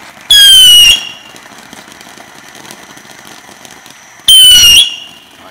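Two loud fireworks go off at a backyard Fourth of July celebration, each a bright shrieking whistle-like burst lasting under a second, several seconds apart, with quiet background between them.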